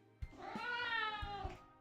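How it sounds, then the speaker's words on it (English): A cat meows once in a long, drawn-out call within the video game Obey Me! Nightbringer, heard alone and fairly close with a few soft thumps around it. "he's a stray cat I befriended recently"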